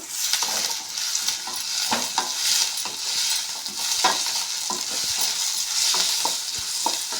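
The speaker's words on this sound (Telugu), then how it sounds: "కొంచెంసేపు వేగినిద్దామండి" Onions with salt frying in a pan for tinday-free saagu, a steady bright sizzle running throughout with frequent spatula stirs and scrapes ticking through it, close and continuous.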